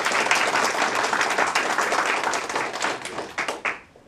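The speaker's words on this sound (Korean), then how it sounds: "박수로 맞아주시죠." An audience at a Gyeonggi Broadcasting radio award ceremony applauds as an excellence-award presenter is welcomed: dense, steady clapping from many hands that thins into a few scattered claps and fades near the end.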